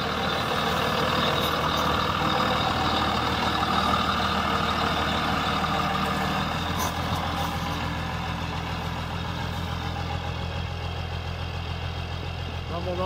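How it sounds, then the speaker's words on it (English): Dodge Cummins turbo diesel truck engine, a dually among them, rumbling steadily at idle for the whole stretch, a dense continuous low drone with faint beeping nearby and a voice talking over it. "Rumble, rumble, rumble. There you go. Rolling coal."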